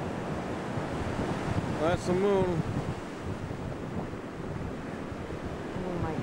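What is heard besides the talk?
ocean waves breaking on the Pacific shore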